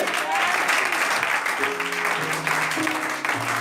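Church congregation applauding and cheering the Lord during a sermon on confronting witchcraft, a dense steady wash of clapping with some voices and tones mixed in throughout.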